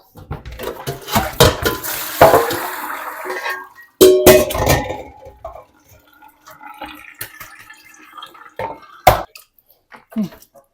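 Bean sprouts being washed in water, with splashing, dripping and sloshing in bursts, sharp knocks of a container or bowl, and quieter gaps between, close up with no speech.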